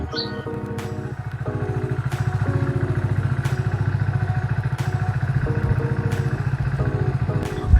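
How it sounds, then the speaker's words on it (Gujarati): A motorcycle engine idles close by with a steady rapid putter, revving slightly toward the end. "બાઇક આપણે ચાલુ કરી લીધી છે"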